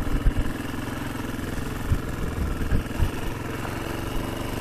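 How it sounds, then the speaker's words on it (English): A Honda XR250R motorbike engine idling close by, a steady low putter with uneven throbbing pulses and no voices. "Motorbike."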